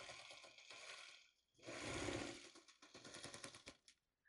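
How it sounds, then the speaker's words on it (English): A sewing machine stitches a psychedelic snowflake border quilt block, fast rapid-fire rattling bursts that stop and start with short pauses, quiet and close, with no talking. "so now I'm just gonna turn it and sew it."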